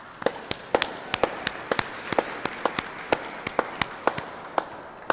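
Audience applause for a steel pan performer at a Black History Month event in the Alberta Legislature: sparse, sharp individual claps over a soft bed of clapping, moderately quiet and irregular.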